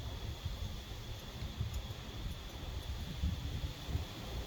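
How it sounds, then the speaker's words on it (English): Strong wind blowing outdoors, a continuous low rumbling buffet against the microphone with gusty surges throughout. "Listen, do you hear that wind?"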